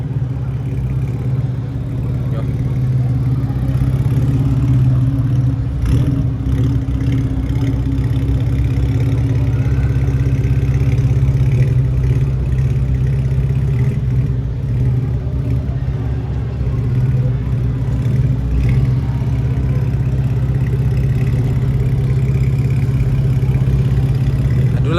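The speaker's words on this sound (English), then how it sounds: "do like the sound of this car, guys. Yeah, inline 6-cylinder engine." A BMW inline six-cylinder petrol engine idles steadily, with a deep, even hum and slight swells in revs. It stays close and continuous throughout, with no talking over it.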